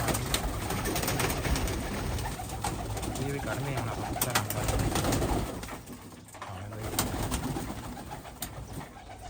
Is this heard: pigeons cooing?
yes